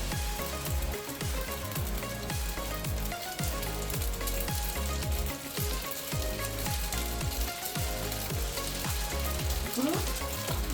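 Spaghetti noodles are tossed and stirred in a hot frying pan for a restaurant-style dish, with a loud continuous sizzle and steady, rhythmic scraping and thumping of the utensil against the pan, close up.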